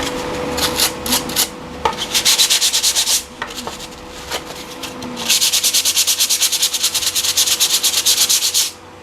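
Sandpaper rubs over 3D printed parts of an RC F-35B VTOL jet wing in bursts of brisk, rhythmic back-and-forth strokes, the last run long and steady, close and fairly loud.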